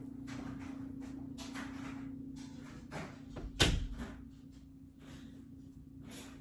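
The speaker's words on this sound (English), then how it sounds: "let me close this door." An indoor door pushed shut in a home, one sharp thud a little past the midpoint over a steady hum from a noisy dryer, with faint rustling before and after.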